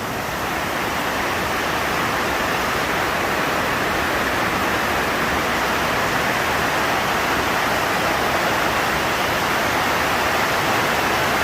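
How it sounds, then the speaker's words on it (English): Floodwater pours into a workshop as a loud, unbroken rushing wash that stays even and close throughout, with no voices over it. "just a lot of water coming in"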